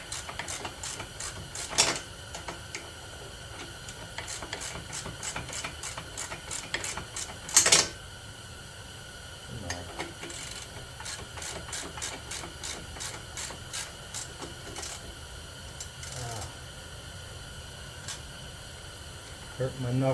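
A socket wrench tightens bolts on nerf bars of a Yamaha Raptor 250 ATV, giving faint, rapid ratcheting clicks in uneven bursts with a few sharper knocks between.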